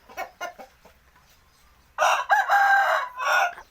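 A fighting rooster at a large Thai cockfighting pit gives a loud, close crow lasting about two seconds, preceded by a few short clucks and soft quiet.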